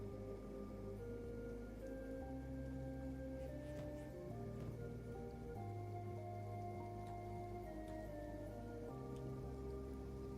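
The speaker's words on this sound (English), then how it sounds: "we're in Acid Rain yet again" Acid rain falls steadily in the Kenshi game, a faint, continuous patter of drops under a low droning ambient background, with no talk.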